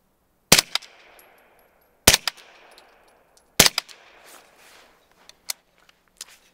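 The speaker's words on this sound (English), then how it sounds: "I'm just going to shoot past the camera into the snow. I'll shoot down into a log." Three suppressed rifle shots from a Jailbroke Space Invader suppressor, fired outdoors into snow and a log, each a sharp loud crack followed by a short decaying tail, evenly spaced about a second and a half apart, with faint clicks afterward.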